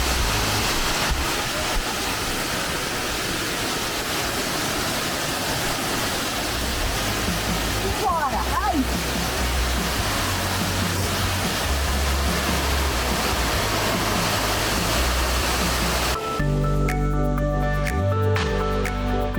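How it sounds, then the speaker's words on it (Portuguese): Steady roar of falling water at the Cachoeira do Sinhozinho waterfall fills the scene, broad and constant, with a brief voice and some clatter near the end. "Pitbull, na Cachoeira do Sinhozinho."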